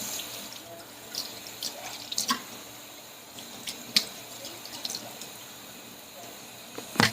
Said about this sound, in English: So we're going to rinse this pork off really well.